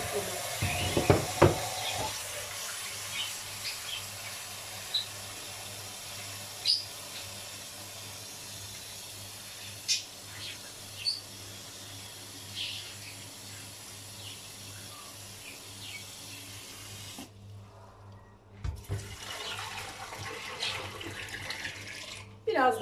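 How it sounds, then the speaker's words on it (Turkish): Hot water from a kitchen tap runs steadily into a pressure cooker being filled for boiling chicken, a continuous hiss with occasional clinks and a brief pause near the end; someone talks over it. "Sıcak suyumu açtım. Aldığı kadar sıcak su koyacağım."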